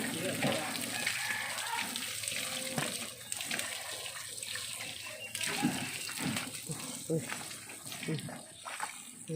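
Two young siblings splash and play in water in a bathtub, with sloshing and scattered splashes running throughout while voices chatter and call out over the water.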